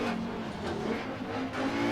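An Audi Quattro rally car in the Dirt Rally video game, running on a German special stage: a steady, loud engine drone holds for two seconds with slight rises in revs, no voices.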